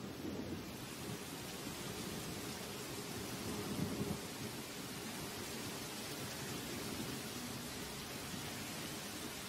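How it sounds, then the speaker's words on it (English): Heavy rain pours down on a tropical forest in a dense, steady hiss, with a low rumble of thunder underneath, distant and soft. "The rain starts pouring down"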